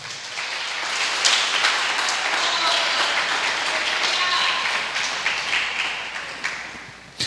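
A church congregation breaks into sustained applause, a dense wash of many hands clapping that holds steady for several seconds, with a few voices rising over it, before tapering off near the end.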